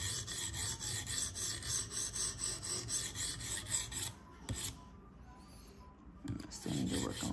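A sharpening stone rasps in steady rhythmic strokes along the bevel of a Spyderco Police 4 knife in K390 steel, then briefly stops before resuming.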